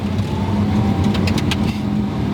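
A Porsche 918 hypercar runs in full electric mode, a steady low whir and road rumble heard from inside the cabin, with a few faint clicks and no combustion engine note.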